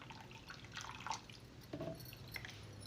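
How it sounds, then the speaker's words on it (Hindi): Cold water poured over sabudana (tapioca pearls) in a kitchen, a soft trickling, dripping splash of moderate loudness that swells and fades over a few seconds, with no voices. "देखिए, मैं ठंडा पानी डाल रही हूँ।"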